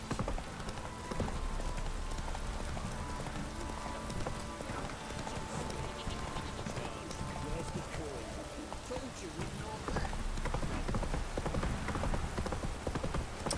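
Hooves clop rapidly and continuously as a horse gallops in The Witcher 3, a quiet even rhythm under game ambience and a voice.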